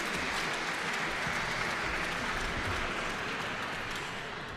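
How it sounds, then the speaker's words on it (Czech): Steady applause from a chamber music concert audience, dense and sustained clapping at an even level for several seconds with no talking. "To bych chtěla ještě potlesk."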